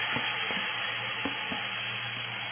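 Sliced mushrooms and softened onion, with garlic paste, frying in a pan, giving a steady, close sizzle with a few soft stirring knocks and scrapes.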